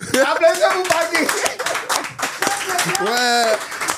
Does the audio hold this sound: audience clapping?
yes